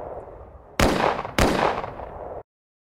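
Two loud, sharp gunshots fire about half a second apart in a video game, each leaving a booming tail that cuts off abruptly afterward.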